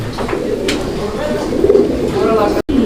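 Low, throaty cooing from racer pigeons nearby, repeated in soft rolling bursts over a busy background with faint human sounds.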